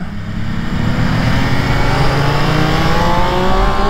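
Triumph Speed Triple 1200 RS motorcycle at full throttle in first gear down the straight at the Carole circuit, a loud, steady engine roar with rising pitch as it accelerates, alone without talk.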